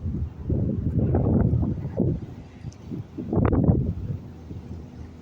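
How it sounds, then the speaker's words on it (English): Gusty wind buffets the microphone in low, rumbling bursts that rise and fall, with no talking. "Oh, it's windy."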